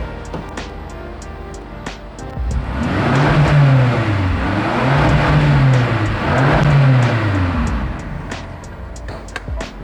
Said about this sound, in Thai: เดี๋ยวผม มาเร่งให้ฟังดีกว่า ว่าเป็นยังไงกันนะครับ อันนี้ท่อเดิมนะครับจากโรงงานเลย